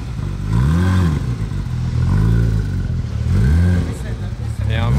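A Porsche Carrera GT's exhaust revs in three rising and falling swells, loud and close, while a voice talks over it.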